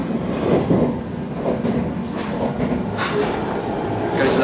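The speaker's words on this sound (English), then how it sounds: "Goes without saying, the train is incredibly impressive." Train leaving Tokyo for Hakone, a steady interior rumble of wheels and rail noise with faint squeals and rattles throughout, moderately loud and continuous.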